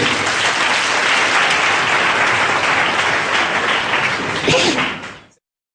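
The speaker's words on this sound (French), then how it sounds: "Applaudissez pour le Seigneur." A church congregation applauds, a loud, continuous sheet of clapping with a few sharper slaps near the end before it cuts off abruptly.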